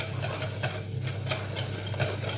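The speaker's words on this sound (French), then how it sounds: "Il faut bien mélanger, hein. Faut pas vous arrêter, faut qu'il double le beurre." Butter being mixed by steady stirring, with a rhythmic scraping stroke roughly every third of a second over a soft background hum, close and continuous with no voice.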